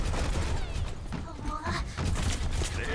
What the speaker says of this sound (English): someone's shooting my turret.